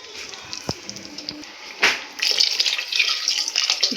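Water poured into a pot of rice being prepared for pulao makes a short splash and then a steady, bright gushing stream that fills the second half, with a few clinks before it.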